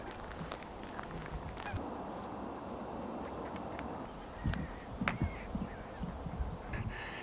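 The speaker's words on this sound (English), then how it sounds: "Here are the geese that I was talking about." A flock of about twenty geese honks at a distance across a marsh, faint scattered calls over a soft outdoor hiss that grow a little busier toward the end.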